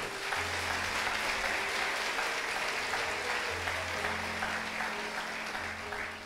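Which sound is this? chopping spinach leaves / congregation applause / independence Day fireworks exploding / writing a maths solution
congregation applause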